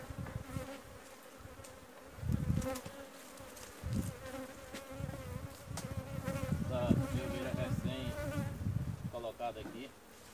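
Honey bees swarm and buzz densely around an opened hive during a honey harvest at an apiary, a steady, close, layered drone that rises and falls over the full stretch with occasional louder passes near the hives.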